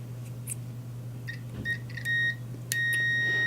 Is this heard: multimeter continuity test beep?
yes